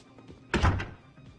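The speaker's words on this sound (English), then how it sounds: "open the door" A door opening in GTA IV, a single solid thunk that stands out near and clear over quiet game background, with faint ambience before and after.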